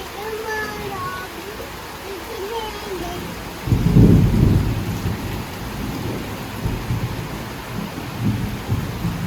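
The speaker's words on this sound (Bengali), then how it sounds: "বৃষ্টি আসতেছে অনেক" A heavy evening thunderstorm with steady rain pours down, and a deep rumble of thunder rolls through midway. A child and an adult talk over the rain near the start.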